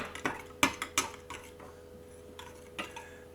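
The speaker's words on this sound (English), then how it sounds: "I'll just give this a little mix." Quiet, irregular clinks of a utensil tapping against a bowl while shashlik marinade is stirred, with short pauses between the scrapes and knocks.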